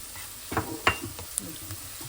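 Garlic sautéing in a pan while cooking chicken tamarind soup: a soft sizzle runs throughout, broken by a few clinks and scrapes of a utensil stirring against the pan, close and fairly quiet.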